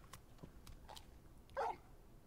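A single short dog bark or yip rises out of a quiet background in the video game Final Fantasy 16, heard alone and fairly faint.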